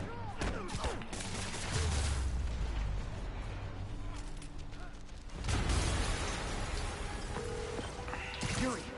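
Explosions and bursts of gunfire in the Spider-Man 2 video game, loud and repeated over roughly nine seconds, with booming low rumbles and sharp cracks in a busy combat mix.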